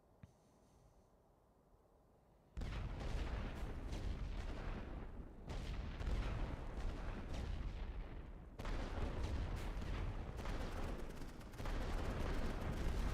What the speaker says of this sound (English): Waffen abfeuern!